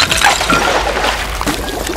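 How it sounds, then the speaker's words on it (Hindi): A water-filled vessel shatters with a bright crack and tinkling fragments, followed by splashing, spilling water over a low rumble; the whole event is close and fairly loud. "जल का पात्र जल के उबलने से कंपित होने लगा और फिर अचानक टूट गया"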